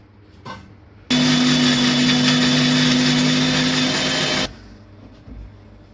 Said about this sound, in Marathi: तर चला पटकन मी आता हे वाटून घेते